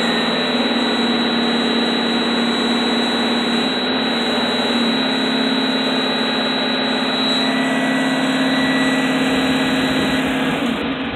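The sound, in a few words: bus engine throttled up, air brake tanks charging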